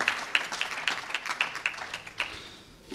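An audience at a Hindu temple event breaks into applause, a brief, fairly close burst of claps with a few sharper individual hand claps standing out before it fades.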